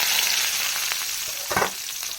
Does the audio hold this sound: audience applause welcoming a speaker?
no